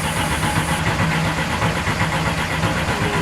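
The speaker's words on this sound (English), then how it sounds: "Before I actually start it, I always crank it over and make sure I've got full oil pressure." A-series race engine cranking over on the starter before firing, a loud, continuous rhythmic chugging with no catch.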